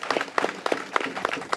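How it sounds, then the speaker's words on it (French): A short burst of scattered hand clapping from a small group at an electrification inauguration ceremony in Towé, uneven and fairly close, with no voices over it. "Et je voudrais qu'on l'applaudisse vivement."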